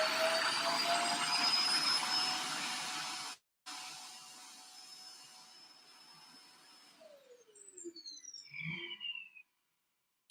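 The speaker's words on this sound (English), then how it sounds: "we have this robotic vacuum cleaner, so it's finished its duty. So when it's cleaning like that, it makes that loud noise." A robotic vacuum cleaner runs with a loud steady whine and hiss for several seconds, briefly cuts out, resumes more quietly, then winds down with descending electronic tones and beeps.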